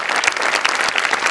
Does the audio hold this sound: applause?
yes